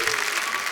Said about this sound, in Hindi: जोरदार तालियां हमारे दोस्तों के लिए